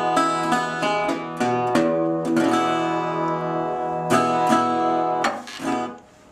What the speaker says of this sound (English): And all together with a full chord, it'll sound like this.